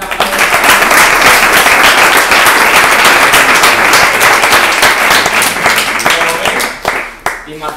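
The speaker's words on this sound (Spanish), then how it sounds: "Otro fuerte aplauso, Marcelino." At a farewell event, an audience breaks into loud, sustained applause that fills the room with steady clapping and tapers near the end, with voices audible beneath it.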